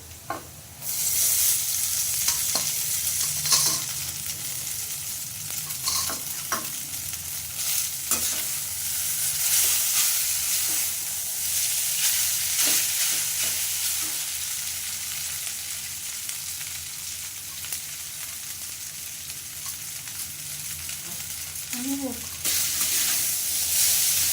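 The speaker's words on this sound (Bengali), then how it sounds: "এবার আমি চাউমিনটা কড়াইতে দিয়ে দেবো" Boiled chowmein seasoned with salt and pepper is stir-fried in a kadai, giving a loud continuous sizzle with repeated scraping and tossing strokes of the spatula close by.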